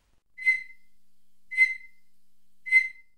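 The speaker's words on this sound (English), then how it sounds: "A bush cricket that folds its wings to form a remarkable acoustic chamber." Three short, high whistling chirps from a whistling bush cricket in the Tanzanian mountains, spaced about a second apart, each clear and isolated against silence.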